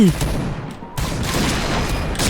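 Barrett sniper rifle fire in a shooting video game: loud, booming shots with a dense, sustained rumble and a sharp burst near the middle.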